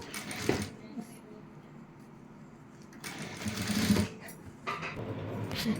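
A sewing machine stitches lace around the neckline of a round-neck blouse, running in short whirring bursts with quieter pauses between them, close and moderately loud.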